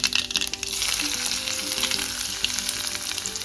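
Chopped onion and garlic crackle in a hot tempering of oil and asafoetida, a dense, close sizzle with a few sharp spatters at the start and stirring underneath.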